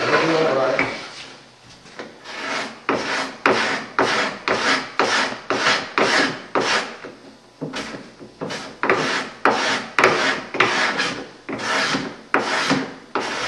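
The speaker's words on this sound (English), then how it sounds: "cut off the excess, and take a scraper and scrape it smooth." A hand scraper scrapes wood string inlay smooth on a 2007 piece, in close, rhythmic rasping strokes repeated about twenty times at a steady pace.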